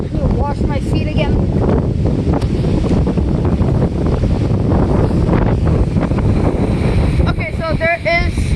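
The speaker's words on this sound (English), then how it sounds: "Okay, so there is still a lot of wind." Strong hurricane wind roars continuously and loudly, buffeting the microphone outdoors, with faint voices and bird-like chirps barely audible beneath the gusts.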